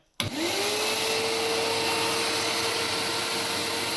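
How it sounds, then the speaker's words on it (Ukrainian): A GTM cordless vacuum cleaner switches on abruptly and runs at a steady, loud whine with a constant motor drone, close by and uninterrupted. "Тепер в мене є суперкрутий пилосос GTM"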